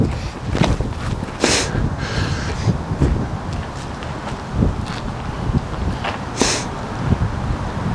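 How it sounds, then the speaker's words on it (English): Gusty wind blowing across an open disc golf course, a steady rough low rumble that swells in bursts, with faint footsteps and brief rustles mixed in and no talk. "the wind is messing with us today"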